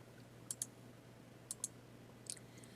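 Computer mouse clicks while working in Silhouette Studio: three faint, sharp bursts, the first two as quick double clicks, spread over a quiet background hum with no talking.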